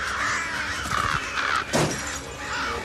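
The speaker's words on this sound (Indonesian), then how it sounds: "Ia mendengar sesuatu di luar rumah yang ternyata banyak burung yang menabrak rumah tersebut." Crows caw loudly near a house in the horror game The Conjuring, with a sharp crash of birds striking the building partway through, the cries and impact close and dense.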